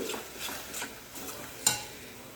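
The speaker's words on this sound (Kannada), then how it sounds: "ಇವಾಗ ಕಟ್ ಮಾಡ್ಕೊಂಡಿರೋ ವೆಜಿಟೇಬಲ್ ಎಲ್ಲ ಇದಕ್ಕೆ ಸೇರಿಸ್ತಿದ್ದೀನಿ." Chopped capsicum, carrot, beans and cauliflower go into a vegetable dum biryani pot, giving soft rustling, stirring scrapes and light sizzle with a brief clink of a utensil, quiet and close.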